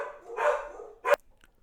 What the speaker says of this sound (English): The dogs were barking.